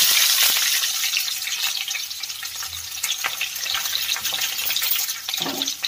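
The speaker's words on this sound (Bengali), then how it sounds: "এবার আমি রসুন কুচিটা দিয়ে দিলাম।" Chopped garlic sizzles in hot oil along with dried red chillies and a bay leaf, a close, continuous crackling fry with sharper pops and a brief stirring scrape near the end, and no one talking.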